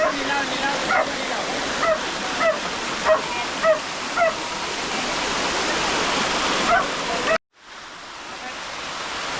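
Steady roar of rushing water from a waterfall near Khopoli fills the scene, with a dog barking in short bursts over it before the sound suddenly cuts out.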